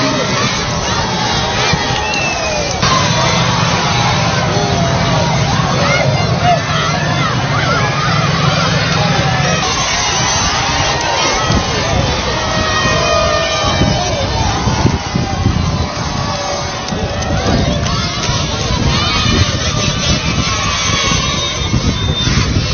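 Dense crowds lining the presidential motorcade route near Bamako, Mali, roar and shout continuously and loudly, with cheering, children's cries and sirens mixed into the constant din.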